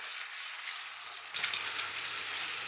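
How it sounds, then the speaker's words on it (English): Beaten eggs sizzling in a hot pan as they are stirred, a steady frying hiss that swells sharply about halfway through, with no talk. "Stir them around a bit."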